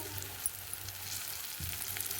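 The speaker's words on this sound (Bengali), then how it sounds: "ভালো করে গরম করে নিচ্ছি। দিয়ে এখন পেঁয়াজটা ছাড়বো।" Onions sizzle softly in hot oil in a pan while meat is being cooked, a steady low crackle with occasional faint stirring clicks.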